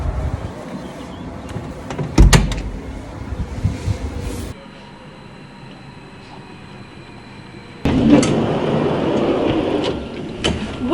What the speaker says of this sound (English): travel to our neighbouring village of Voss, emission-free, on trains fueled by our cascading waterfalls.